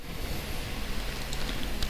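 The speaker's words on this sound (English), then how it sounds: "We can sleep as it is raining." Rain falls in a video game as a steady soft hiss with faint patter, continuous and even throughout, with no voices.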